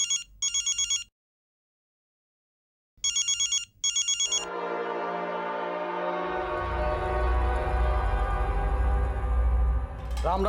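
A telephone rings in two double bursts with a pause between, unanswered, then a sustained musical drone swells and fills the rest.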